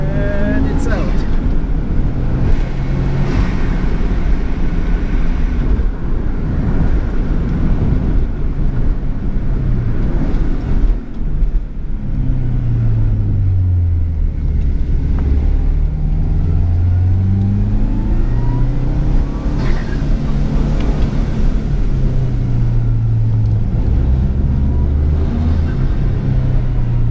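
A 1995 Subaru Impreza WRX STI turbo engine rumbles loudly from inside the car, its pitch sweeping up and down through repeated accelerations while a voice talks over it.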